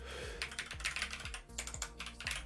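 Rapid, uneven clatter of keys on a computer keyboard, a burst of close typing with a brief pause midway before the tapping resumes.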